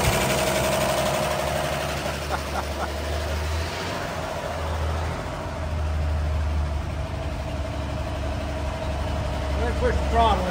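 The engine of a 1935 Chevrolet idles with a low, steady rumble, close by and moderately loud, while a person talks over it.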